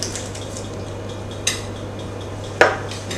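Cutlery clinks and scrapes against a plate while baked oven vegetables are stirred, two distinct metallic taps standing out over a steady low hum.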